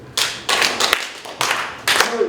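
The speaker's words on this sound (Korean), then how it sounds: "박수 3번만 크게 한번 치세요." Audience at a cultural forum claps three loud beats in unison, each a sharp collective clap spaced about half a second apart and followed by a brief pause before a second round starts.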